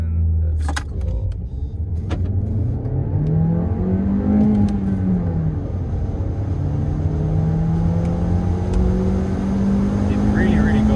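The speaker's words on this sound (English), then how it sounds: "let's do the 0 to 100 of this 2021 Golf 8" A 2021 Volkswagen Golf 8 TSI with a 130 hp manual gearbox accelerates from 0 to 100 km/h, its engine note climbing steadily through the revs, dropping at a gear change, then rising again, heard from inside the cabin under talk.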